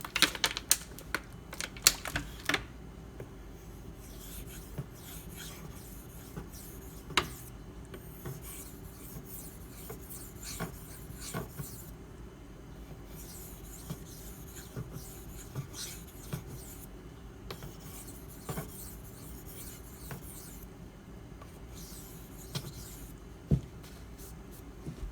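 A Maxamet steel knife is stroked across a Nano Hones whetstone, a steady dry rasping scrape with irregular strokes and occasional clicks, continuing alone throughout.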